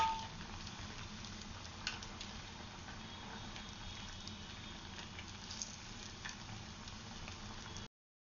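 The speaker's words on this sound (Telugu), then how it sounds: "ఇలా 2 వైపులా తిప్పుకొని కాల్చుకోవాలి." Vadas made from leftover curd fry in hot oil, giving a steady, quiet sizzling hiss with small crackles and pops that continue evenly throughout.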